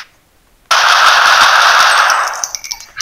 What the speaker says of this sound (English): You would most likely hear gunfire.